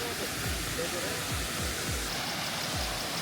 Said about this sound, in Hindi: वाटरफॉल, आप देख सकते हो कितना क्रिस्टल क्लियर पानी है भाई